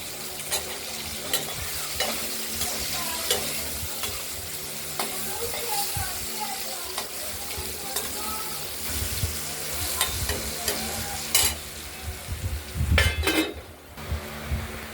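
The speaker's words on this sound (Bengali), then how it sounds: "আলুগুলো ভাজা হয়ে গেছে" Potatoes fry in hot oil with salt and turmeric in a kadai, a steady close sizzle broken by repeated scraping and clinks of a metal spatula stirring against the pan, with a few louder knocks near the end.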